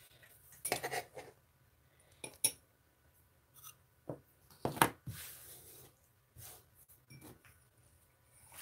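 A block of cocoa butter being shaved down for melting, made into scattered scraping and clinking strokes of metal on a hard surface in irregular bursts, close and fairly quiet with no talking.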